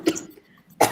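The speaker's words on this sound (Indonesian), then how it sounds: "Maaf ya Bu, agak batuk." A woman presenting a lesson coughs twice, close and sharp, with a short quiet gap between the two throaty bursts.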